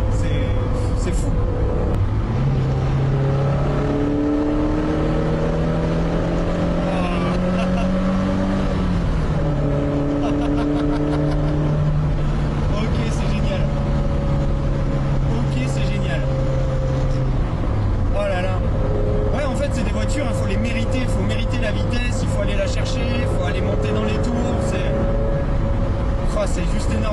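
A 1965 Alfa Romeo Giulia Sprint Speciale engine drones loudly while driving, its pitch climbing and dropping through the gears, with people talking in French over the steady, close engine noise.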